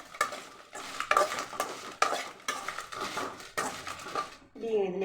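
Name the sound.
chillies and tamarind being fried and stirred in a pan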